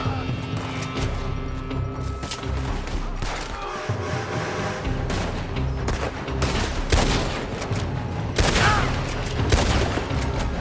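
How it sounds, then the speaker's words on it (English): A Red Dead Redemption 2 shootout with near-constant gunfire: repeated rifle and pistol cracks, some close and loud, others farther off. Booms and crashes are mixed in, with a voice briefly heard under the firing. "They're shooting from that building."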